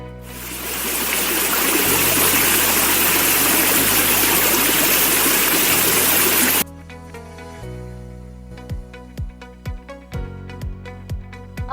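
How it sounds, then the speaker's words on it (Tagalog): A waterfall of water dropping from high ground roars in a loud, steady broadband rush for several seconds, then cuts off abruptly, followed by quieter plucked musical notes. "Tingnan nyo naman ang tunog ng talon."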